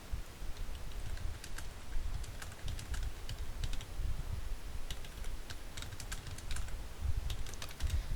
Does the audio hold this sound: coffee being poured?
no